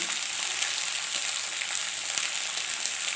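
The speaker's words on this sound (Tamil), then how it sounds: "கடுகு நல்லா பொரிய ஆரம்பிச்சிருக்கு இந்த ஸ்டேஜில் நம்ம அரிஞ்சு வச்சுருக்க வெண்டைக்காய் எடுத்து அதில் போட்டுக்கலாம்" Okra dropped into hot oil with popping mustard seeds, frying as a steady close sizzle with faint crackles and light stirring, no voices.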